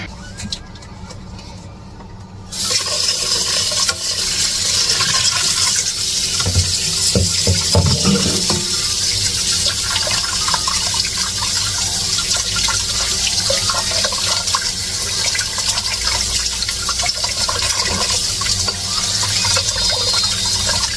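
Running tap water streams steadily onto food being washed for a pork-bone and squash soup in a home kitchen, a continuous loud splashing rush that starts abruptly after a quiet opening and continues without talk.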